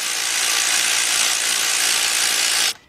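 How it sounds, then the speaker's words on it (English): A 3/8 drive ratchet fitted with a 13mm shallow socket tightening front brake bolts on a 2007 Dodge Ram 3500 pickup with the 5.9 engine, heard as a loud, continuous, dense rasping whir close by for nearly three seconds before it stops abruptly. "Take your 13mm shallow with your 3/8 drive ratchet, or in my case, the big bill, and you go tighten them up."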